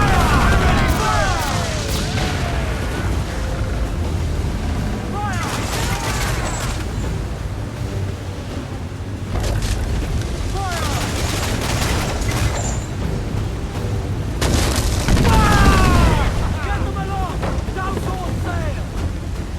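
Ship cannon fire from an Assassin's Creed naval battle set in 1721, with heavy booming volleys and rushing wind and water; shouted voices and crew chatter run over the barrage.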